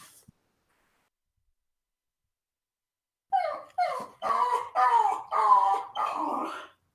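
A dog whimpers and whines in a run of five or six drawn-out, tonal cries after several seconds of silence, close and fairly loud.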